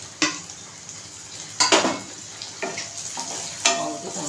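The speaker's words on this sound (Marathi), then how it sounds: "आपला कांदा लाल झाला, आता टोमॅटो टाकतो" Tomatoes go into a pan of browned onions for a home-style ghevda vegetable dish, bringing a steady sizzle broken by four sharp scrapes and clinks of a spoon stirring against the pan.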